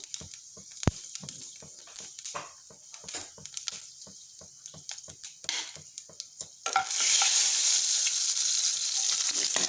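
Panch phoron spices fry in hot oil, with a series of crisp stirring taps and light crackles close by that give way to a loud, steady sizzle.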